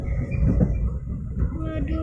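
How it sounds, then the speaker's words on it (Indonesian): Raja Basah passenger train in Lampung running, a steady rumbling rail roar with rattling carriage noise heard from inside, continuous and fairly loud throughout. "Kalian udah pernah naik kereta api Raja Basah kah?"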